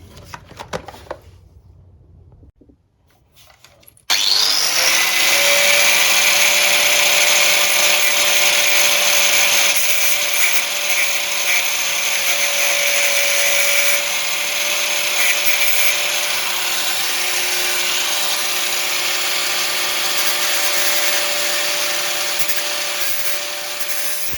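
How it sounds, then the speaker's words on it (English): An angle grinder cutting off a motorbike chain on a Kawasaki ZX6R, starting after a few seconds of quiet and then screaming steadily and loudly for about twenty seconds, close up. "If it breaks, we'll grind it off."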